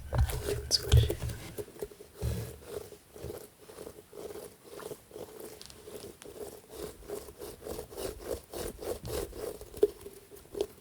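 Soft, repeated squishing and rubbing of a ridged fidget toy held close, a steady rhythmic series of quiet crackly presses, with a faint whispered voice at the start.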